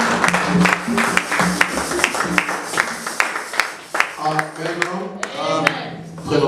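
A church congregation claps and cheers together during a service, loud sharp hand claps in a steady burst with voices calling out over them, then fading into speech.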